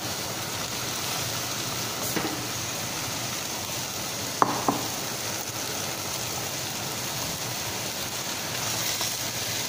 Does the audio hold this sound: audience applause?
no